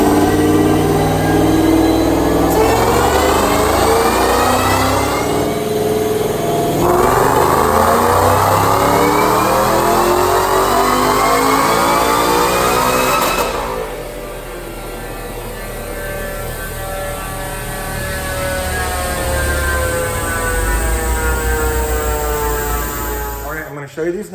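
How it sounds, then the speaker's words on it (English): 2013 Ford Mustang with a Webster Coyote engine and Whipple supercharger doing a dyno pull: a loud, rising engine roar sweeping upward through the gears with supercharger whine, a brief lift, then another climbing pull under a constant mains hum. "I'm gonna show you dyno pull, show you this Whipple on our Webster Coyote."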